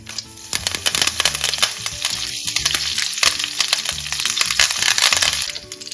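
Mustard seeds, fenugreek seeds and curry leaves hit hot oil for a peach pickle tempering, crackling and spitting in dense rapid pops over a continuous sizzle, close and loud throughout.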